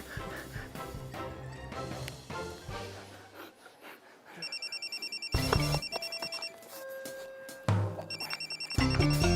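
A mobile phone rings in repeated electronic tone bursts, loud and close, starting and stopping several times over background music and scene noise.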